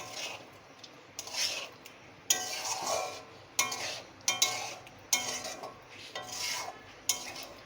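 A soybean and flour dish, seasoned with garam masala, is stirred in a pan with the heat off. About seven rasping, scraping strokes come at a steady rhythm, each a short burst, close and moderately loud, with no talking.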